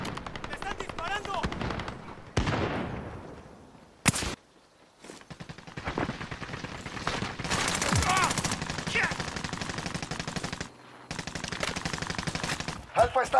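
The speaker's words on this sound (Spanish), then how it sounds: "¡Me están disparando!" Video game gunfire, long stretches of rapid automatic shots with a few sharp louder cracks and brief pauses, close and dense, with excited Spanish-speaking voices over the firing.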